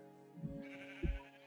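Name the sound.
sheep bleating in Minecraft video game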